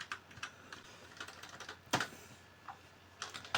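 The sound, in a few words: computer keyboard typing, copy and paste shortcuts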